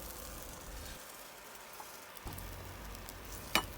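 A Thai omelette fries quietly in a pan, giving a soft, faint sizzle with a brief scrape or tap near the end.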